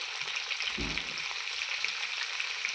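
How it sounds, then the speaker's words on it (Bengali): Potatoes frying with salt and turmeric in a pan, a steady close sizzle with a brief stirring scrape near the start and no talking. "লবণ হলুদকে ভালো করে আমি লাল লাল করে ভেজে নেব"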